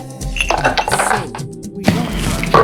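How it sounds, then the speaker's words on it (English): Ice cubes clatter into a glass for a milk smoothie, a quick burst of hard clinks and rattles against the glass, close and fairly loud, with a second tumble of cubes near the end. "And half glass of ice."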